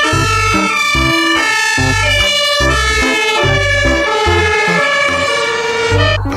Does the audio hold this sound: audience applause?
no